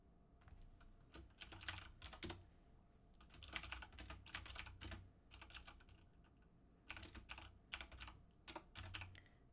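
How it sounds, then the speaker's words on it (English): Quiet typing on a computer keyboard, bursts of rapid key clicks separated by short pauses, close by with no talking. "I am typing, responding to a couple things"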